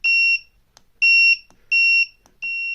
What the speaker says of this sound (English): you can hear the beep beep at the end, and you can hear the sound of the alarm